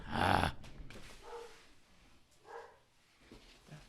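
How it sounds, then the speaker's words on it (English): Dogs growl and give a few short barks indoors, low rumbling bursts spaced irregularly at moderate distance. "Hold on, my dogs are doing something."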